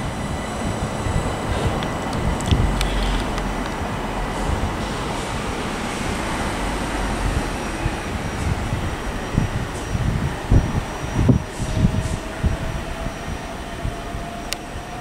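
A Southeastern class 375 electric multiple unit, 375705, pulls away from Sevenoaks on the South Eastern Main Line, bound for Tunbridge Wells from London Charing Cross; a steady broadband rumble of wheels and traction with faint squeals, close and continuous throughout.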